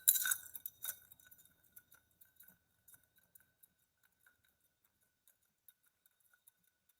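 Ice clinking in a glass as a cocktail is stirred, a couple of bright rattles at first, then sparse faint ticks fading into quiet.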